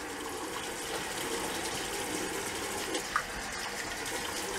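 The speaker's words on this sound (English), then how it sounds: "Rinsing. Cold water." Cold water running steadily from a tap for rinsing during a shave, a continuous even rushing hiss with one brief splash partway through.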